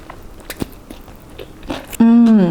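Several crisp bites and crunchy chewing of japchae glass noodles with fresh vegetables, close and distinct, followed by a loud sustained voiced sound at the end.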